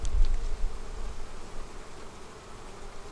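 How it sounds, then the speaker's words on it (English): Honey bees buzz around an open hive during an inspection, a soft continuous hum close by with a few louder passes near the start. "Oh, I just had a bee pound me in the head."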